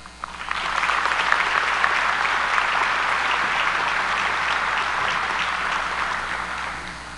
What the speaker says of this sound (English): Please give a round of applause for our faculty.